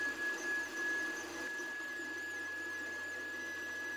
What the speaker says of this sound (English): two holes are created by the printer